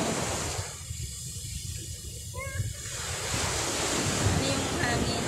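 Large sea waves surge and crash against the shore while strong wind buffets the microphone, a loud, continuous roar of surf that swells near the end.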